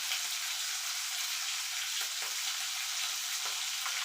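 A tempering of curry leaves, garlic paste and a single chili sizzles in hot oil, a steady, fairly quiet frying hiss with a few brief crackles and no talking.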